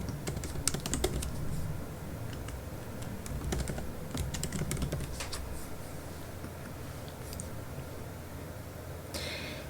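Computer keyboard being typed on steadily while entering user login details, a close, continuous patter of keystrokes with brief pauses and a few louder taps.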